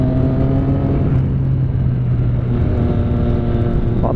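A motorcycle ridden along a straight, a steady droning engine hum with constant low rumble and wind noise, continuous and close with no change in pace.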